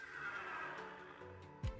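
A horse in a video game lets out a faint, drawn-out whinny over a steady game background, followed by a brief low thump.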